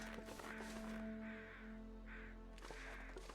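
Crows caw faintly in the video game The Long Dark, a few harsh calls spaced out over a soft low ambient hum, distant and quiet, with no one talking.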